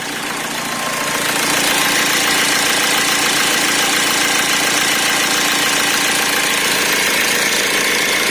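A Fiat Doblo engine idles steadily up close, a constant rumbling drone with a faint rhythmic ticking, no voices.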